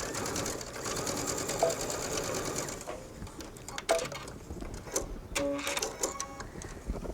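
A sewing machine stitches a sleeve with a steady rapid mechanical chatter for a few seconds, then runs in shorter bursts with pauses and small clicks, close and moderately loud.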